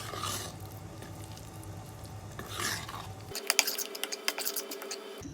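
A spoon stirs rava idli batter in a bowl after water is added to the soaked semolina, first as a soft, steady swishing, then as a run of sharp, irregular clicks and scrapes against the bowl.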